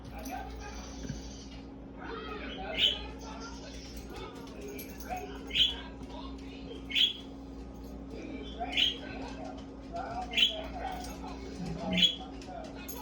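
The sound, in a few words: birds at a winter feeder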